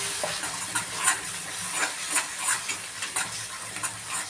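Cashew curry masala sizzling in a kadhai with salt added, a steady frying hiss broken by regular scraping strokes of a spoon stirring, close and fairly loud, no talking.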